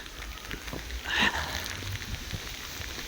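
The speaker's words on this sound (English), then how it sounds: "And it's starting to hail now" Hail falling during a spring hailstorm in Macclesfield, a steady dense patter of small impacts spread across the surroundings, with one brief louder swell partway through and no clear talking.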